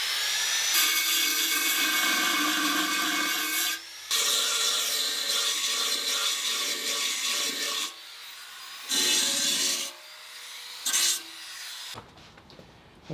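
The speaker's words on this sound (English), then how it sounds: "I'm going to sand this thing down a little bit." Sanding a metal part before welding it onto a Subaru-swapped Porsche, continuous abrasive rasping in several bursts with brief pauses between them, loud and close, no talking.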